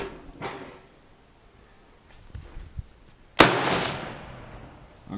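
A Swedish M96 Mauser rifle in 6.5x55mm fires a single sharp outdoor shot at 50 yards, a loud crack with a trailing echo, preceded by faint handling noises.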